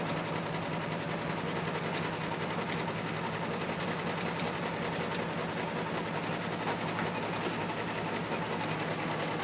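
An embroidery sewing machine stitches a design without pause, starting with the darker areas of a horoscope-sign tail. It makes a dense, even mechanical whirr, continuous and close, with no voices.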